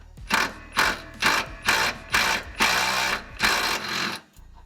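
A Milwaukee brushless power tool loosening sway bar bolts in a garage fires off seven evenly spaced, loud rattling bursts, each about half a second apart, ending with a short pause and a final softer whir.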